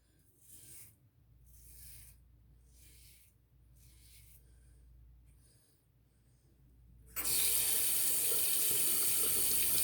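Water runs steadily from a tap, with intermittent splashing and rinsing bursts as a razor is rinsed, before the flow grows louder and continuous near the end.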